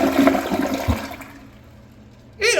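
An American Standard Champion 4 toilet, second generation from the 2010s, flushes loudly in a ball rinse test, the rushing water swirling strongly before draining down to a quiet trickle, then a fresh burst of noise at the end.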